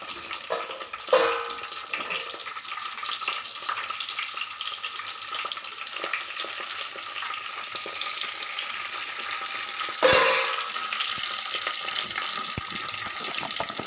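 Oil sizzles steadily in a kadai as chana dal, urad dal, curry leaves and dried red chillies fry for a tempering, a continuous crackling hiss with two sharper bursts where more goes into the pan.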